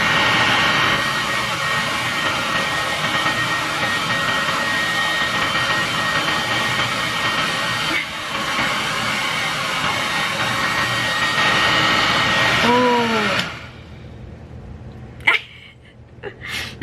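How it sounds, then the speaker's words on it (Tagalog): A handheld hair dryer blows a steady, loud broadband rush close by for about thirteen seconds, then cuts off abruptly, leaving a quiet room with a few faint clicks. "I have here my hair dryer."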